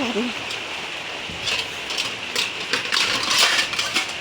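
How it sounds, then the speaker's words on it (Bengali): Rain falls steadily on a surface, a broadband hiss with scattered drop patter that swells in louder bursts over a few seconds, with faint background voices. "আর এদিকে ধর বৃষ্টি আবার পরে আরম্ভ করছে"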